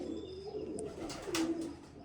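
A pigeon gives a soft, low rolling coo close by, brief and gentle, with faint chirps in the background.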